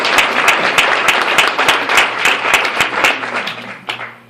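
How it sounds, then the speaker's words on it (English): Loud audience applause at a district governor's gathering, close and lively clapping from many hands with crisp individual claps, tapering off at the end over a faint steady hum. "he deserves a round of applause"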